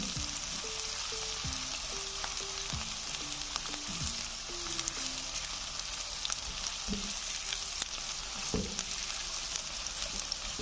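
Onions fry in a pan for tinda sabzi, a steady, fairly close sizzle running throughout, with occasional light clicks and taps of a spoon moving them around.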